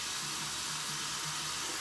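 Tap water running steadily from a faucet onto hands over a sink, a close, constant hiss and splash with no pauses and no talking.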